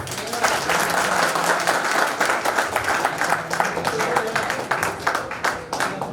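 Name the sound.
audience applauding a teacher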